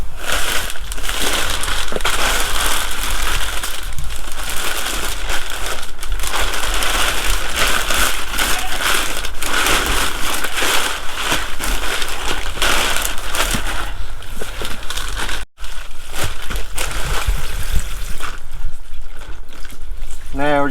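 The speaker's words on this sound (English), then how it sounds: "Now, I'll go get the water hose and we'll start running some water in there" Steady rushing and splashing of water from a garden hose running into a container that will hold a waterbed heater for seedlings, continuous and close, with a brief dropout near the end.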